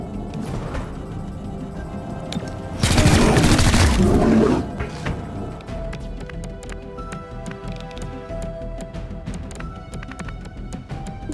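A loud burst of gunfire in the squad-based tactical video game XCOM: Chimera Squad, a dense blast lasting about a second and a half over steady game ambience and music.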